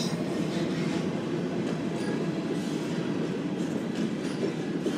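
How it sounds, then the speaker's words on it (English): Two slow-moving Norfolk Southern locomotives haul a trash train past at close range, a steady low rumble of engines and rolling cars with faint wheel clatter, continuous and loud throughout. "Just 2 boring locomotives."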